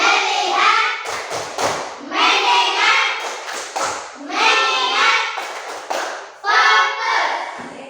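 In a fifth-grade primary classroom, children chant in unison, broken up by sharp, rhythmic bursts of hand claps and thumps between the chanted phrases, close and lively.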